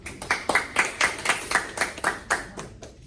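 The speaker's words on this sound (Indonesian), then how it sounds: "boleh tepuk tangan dong buat dia" Students in a Year 12 classroom clap for a classmate, about a dozen fairly even, fairly close hand claps in a steady rhythm, light and sparse rather than a full ovation.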